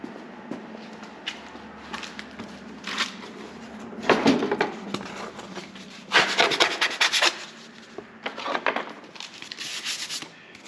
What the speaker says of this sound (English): Dad's going to go ahead and mix us up some Bondo